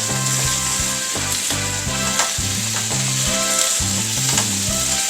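Carrots and other ingredients for Japanese-style beef curry sauté loudly in a pan, giving a strong, continuous sizzle broken by rhythmic scraping strokes as they are stirred.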